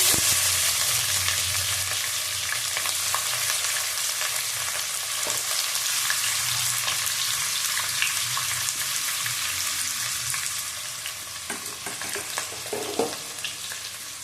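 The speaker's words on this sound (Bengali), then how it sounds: "ভালো করে পেঁয়াজটা ভেজে নেব।" Onion and capsicum frying in a pan for a yogurt chicken dish, stirred throughout: a steady close sizzle with scattered scraping and spatula knocks that eases slightly toward the end, no talk.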